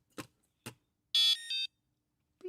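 A Reflow Master Pro reflow controller powering on: two short clicks, then a loud, bright electronic chirp-like beep sequence in two tones, close and alone.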